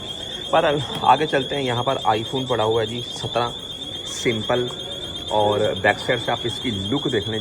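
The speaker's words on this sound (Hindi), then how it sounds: "इसको जब भी कोई आकर उठाता है तो अलार्म बजने लग जाता है" An anti-theft alarm on an iPhone store display sounds a steady high-pitched tone throughout while someone talks continuously over it.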